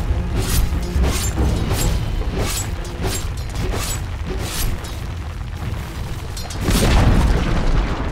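Dire bottom tower collapsing in the video game Dota 2, a loud rumbling boom with crunching, creaking debris and repeated bursts over dense game noise.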